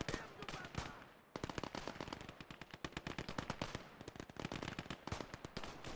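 Rapid machine gun bursts from a World War II weapon in the game Call to Arms, a sustained crackling stream of shots with a short pause, then resuming, loud and close.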